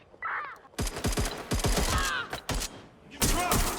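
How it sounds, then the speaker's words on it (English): Gunfire in the video game Watch Dogs Legion: rapid bursts of sharp, loud shots in quick succession, with clusters of overlapping cracks and a brief gap before a final heavy volley. There is no talking. "Shots fired! I'm taking fire!"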